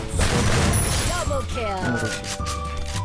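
M1887 shotgun fire in the Free Fire mobile battle game, a dense burst of booming shots at the start that gives way to sparser blasts, with someone talking over the gunfire.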